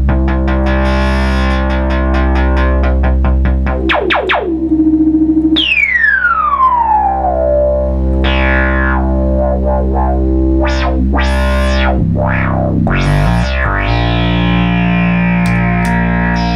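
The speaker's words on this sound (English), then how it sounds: "Your filter now sounds like a Moog filter." A repaired Minimoog synthesizer plays loud, buzzing oscillator tones, then sweeps its filter through falling and rising swoops and pitch glides, steady and uninterrupted for the whole stretch.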